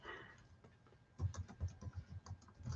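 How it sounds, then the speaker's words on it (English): Fingers typing on a computer keyboard produce a quick, uneven run of soft clicking keystrokes, close by and quiet, starting after a brief lull. "Let me type in my thing."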